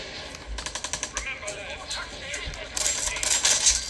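Gunfire from a firearm in Fallout 4 played on a Steam Deck: a rapid burst of about eight evenly spaced shots, then scattered game noises and a louder clatter near the end.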